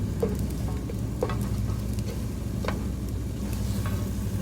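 An egg roll cooks in a regular fry pan, giving a steady, even sizzle of frying with a few faint ticks and clicks scattered over it.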